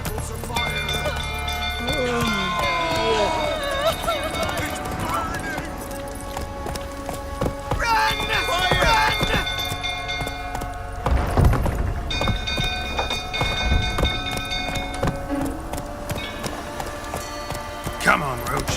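Horse galloping in The Witcher 3, with steady clip-clop hoofbeats running through the whole stretch beneath raised voices shouting and game ambience.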